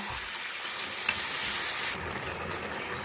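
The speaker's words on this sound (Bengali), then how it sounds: "এবার আমি খুব ভালো করে পেঁয়াজের সাথে মাংসটাকে কষিয়ে নিচ্ছি।" Meat stir-fried with onions for a potato and meat curry, a loud steady sizzle and fry hiss close up, with a brief utensil knock near the middle and the sizzle easing slightly afterward, no talk.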